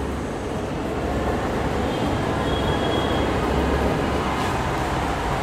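A train rumbles along steadily and loudly, a dense continuous roar of wheels and rail noise with no pauses throughout.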